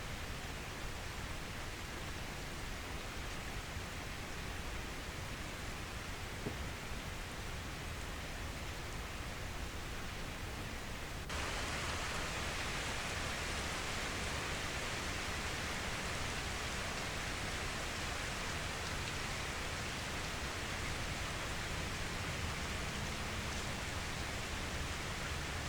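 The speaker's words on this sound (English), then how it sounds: "The sound of the rain falling," Summer rain falls steadily outdoors as a soft, even hiss of drops, faint and unbroken throughout with no talk over it.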